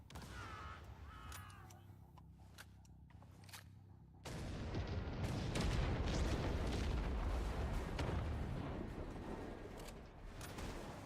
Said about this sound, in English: Where are those rockets coming from?